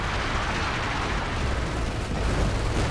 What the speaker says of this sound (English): Something's being called in there. It's officer artillery.